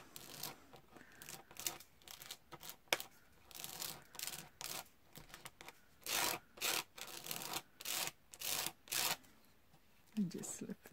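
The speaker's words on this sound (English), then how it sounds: "So you can really scrape it on." Embossing paste scraped onto a scrapbook layout with a tool, giving repeated rasping, rubbing strokes of varying length close to the microphone, with a voice talking at times.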